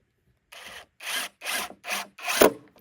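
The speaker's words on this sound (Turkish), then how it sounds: "Tork şarjlı. Bir tane vidamızı" A Tork cordless screwdriver drives a screw through a square into wood while building a raised vegetable bed, giving four or five close, loud, rasping bursts of roughly equal length with short pauses between them.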